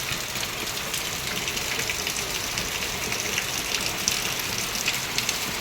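Steady rain falls and pools outside a house in Odisha after days of downpour, a constant soft hiss with scattered drip taps, fairly faint and unbroken by speech.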